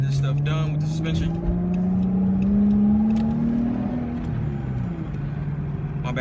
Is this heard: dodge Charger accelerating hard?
yes